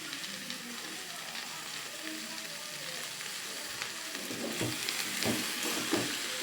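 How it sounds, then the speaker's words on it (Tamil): Potato and okra sautéing in a pan with garlic and chicken masala, giving a continuous bright sizzle with stirring scrapes growing more pronounced toward the end. "இப்படி கொஞ்சம் நேரம் நல்லா வதக்கி விட்றோம்"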